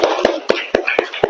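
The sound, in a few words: group clapping hands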